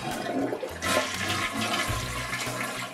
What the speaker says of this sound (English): why not use recycled water to flush the toilet?